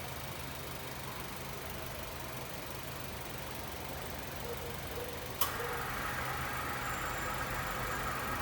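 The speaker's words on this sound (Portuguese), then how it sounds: "Uma espécie de barulho de rolamento." A 2017 Honda WR-V idles quietly until its air conditioning switches on with a click, then the compressor adds a steady whirring bearing-like drone and faint whine over the engine hum.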